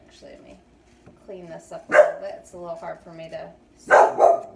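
A dog barks sharply twice, with whiny yips in between, while a person keeps talking over it nearby.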